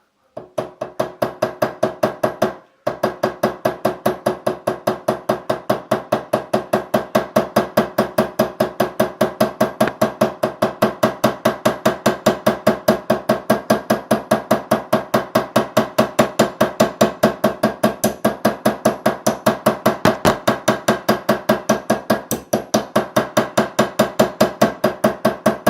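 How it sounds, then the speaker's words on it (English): A small hammer peens the top of a metal pin for straight razor scales, delivering a long, rapid, even stream of light metallic taps after one brief pause, close and loud with no talking. "We're going to hit in very, very small hits in a circular motion so it peens nice and even all the way around."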